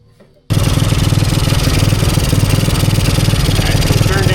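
An old ATV engine fires up suddenly and runs at a loud, steady, throbbing idle close by, its rapid pulsing continuing after the idle screw adjustment.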